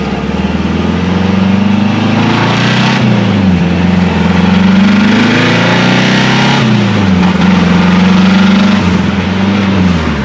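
A Saab Sonett engine runs smoothly after a tune-up with cleaned points, loud and close, with a steady low drone that dips and swells in pitch twice as revs drop and rise again.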